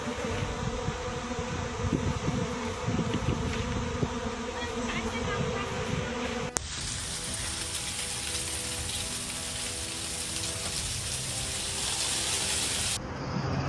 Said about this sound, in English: A normal day at the honeybee farms.